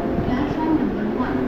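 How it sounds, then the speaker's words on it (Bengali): A Vande Bharat Express train starts to pull away with a low rolling rumble, heard briefly from inside while voices talk over it. "ফাইনালি আমাদের ট্রেন ছাড়তে শুরু করলো আবার।"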